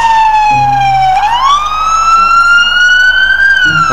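A loud wailing siren from a toy ambulance, sweeping slowly up and down in pitch, close and continuous with a faint hum underneath.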